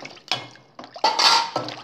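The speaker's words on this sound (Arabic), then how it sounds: "انا هحط شويه من المواعين" Dishes and cutlery being set into a basin of washing water, a few separate clinks and splashy knocks in an irregular rhythm, close and fairly loud with short quiet gaps between.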